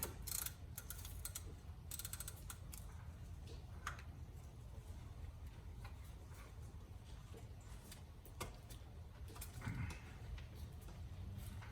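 A ratchet working the serpentine belt tensioner on a 2007 GMC Sierra, quiet scattered clicks and mechanical clunks over a low engine-bay hum, close but faint.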